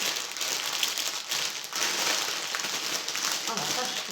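Adhesive tape ripped off a cross-stitch kit's packaging during an unboxing, a steady crackling, crinkling tear lasting several seconds, close and fairly loud, with brief dips in between.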